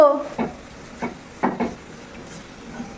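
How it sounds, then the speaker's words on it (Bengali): Potatoes frying in a pan in a home kitchen give a quiet, steady sizzle, broken by a few irregular clanks and scrapes of stirring. "আলু ভাজছো"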